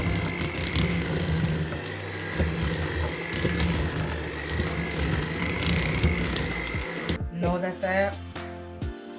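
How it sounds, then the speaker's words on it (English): A stand mixer creams butter and shortening together, giving a steady mechanical whir with a rattling, ratcheting edge that cuts off abruptly near the end, followed by talking. "Now I've creamed my butter and shortening together."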